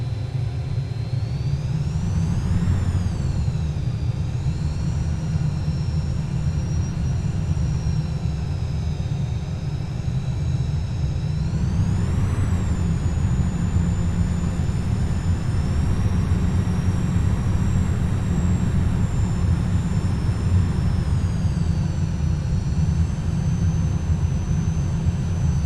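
A steady jet engine roar from a Cessna Citation Mustang in Microsoft Flight Simulator drones throughout, its high whine rising and dipping in pitch a couple of times as electronic engine control adjusts.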